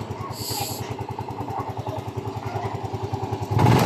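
A Yamaha Mio i 125 scooter engine with a check engine fault idles in a steady rapid putter after starting, close and even, with a brief beep early and a louder revving burst at the end.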